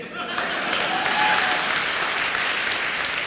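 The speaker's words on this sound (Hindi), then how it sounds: "जैसे आपने ताली बजाई उनने भी बजाई" An audience applauds, a dense, even patter of many hands clapping at once, sustained and steady throughout.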